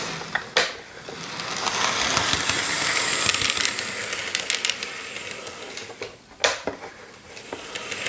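A small HO scale Athearn AC4400 model locomotive whirs along steadily with faint mechanical ticking and a few sharp clicks, close and fairly quiet.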